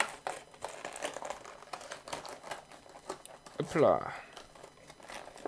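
Packaging for Oakley Airbrake MX goggles crinkles and rustles as the items go back into the box. Soft scattered crackles build to one louder crumpling burst, with someone speaking briefly.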